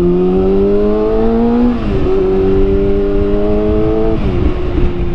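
A big bike motorcycle screamer engine holds a loud steady high-pitched whine that dips and climbs again as it revs, close and continuous with no talk over it.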